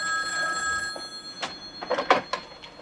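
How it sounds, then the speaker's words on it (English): A telephone rings with a bright metallic bell tone in a home setting, sustained at first, then followed by a few brief knocks and clatters, moderately close. "Jenny, phone call."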